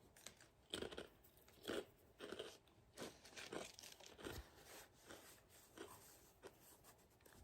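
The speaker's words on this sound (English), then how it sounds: "I'm gonna eat a spicy queso chip" Close, quiet crunching and chewing of a spicy queso tortilla chip, with repeated crisp bites and munches at an irregular rhythm, with no talk over them.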